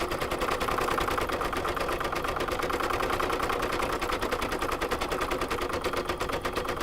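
An embroidery sewing machine runs steady decorative stitching after a satin stitch, a fast even mechanical chatter that continues loud and unbroken with no pauses.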